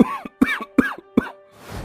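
A man coughs four times in quick, evenly spaced bursts, close and loud, with a raspy, harsh tone, then breathes out softly at the end.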